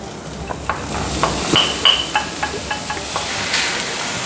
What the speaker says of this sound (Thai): ให้ใส่มะเขือเทศกับแครอทลงไปผัดเลยนะครับ